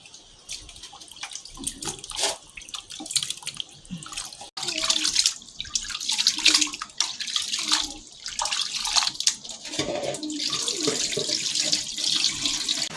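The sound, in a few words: washing meat under running water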